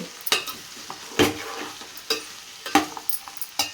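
Okra and dried prawn curry being stirred in a pan, with repeated scraping strokes of the spoon over a soft background sizzle, close up and no talking.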